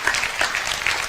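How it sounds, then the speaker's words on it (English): Thin, sparse applause from a small crowd at a political speech, a brief patter of scattered clapping that stays steady and moderately close, with no talk. "I've heard better applause at a golf tournament."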